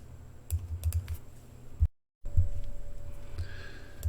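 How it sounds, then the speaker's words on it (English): Computer keyboard arrow keys tapped in short clusters of soft clicks, close and quiet against light room hiss, with a brief silent gap midway. "I'm using the keyboard arrows."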